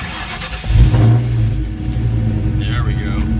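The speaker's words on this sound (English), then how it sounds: "All right, first startup with the boreless." A 2001 Ford Mustang GT V8 with boreless mufflers starting up for the first time, cranking into a loud, deep, rumbling idle close by, with a person talking over it.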